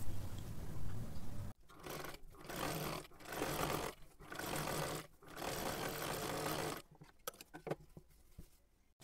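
A domestic sewing machine runs in four or five rapid bursts separated by short pauses as it stitches a hem along the lower edge of a cut salwar-fabric strip for a kurti, loud and close.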